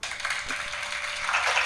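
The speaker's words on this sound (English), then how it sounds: "Gonzalo and Cecile, you get a round of applause." Audience applause for two guests at a live-streamed HIV justice event, a steady dense wash of clapping that holds at an even level for the whole stretch.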